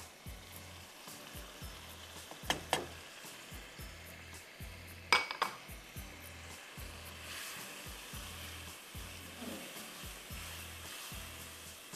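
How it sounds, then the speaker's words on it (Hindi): Tomatoes fry with pav bhaji masala in a pan, making a steady sizzle for the whole stretch under a repeating low mechanical hum, with occasional clinks and scrapes of a spoon against the pan. "इतनी अच्छी तरह भूनना है कि टमाटर गल जाए"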